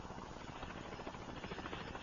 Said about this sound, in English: The sound of a helicopter confirms his instincts are right